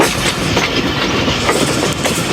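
The 40 Down Jaffar Express rolls along a single railway line between Attock and Lahore, heard from on board as a loud, continuous rumble with rhythmic clickety-clack of the wheels.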